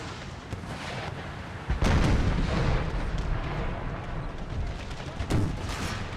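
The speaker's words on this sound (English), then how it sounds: "All units, at least all artillery, start shelling these sharpshooters." Artillery shelling in Empire: Total War with the Brothers vs. Brothers mod, a Civil War battle with heavy booming cannon blasts over continuous distant gunfire and battle rumble, several loud thuds at irregular intervals.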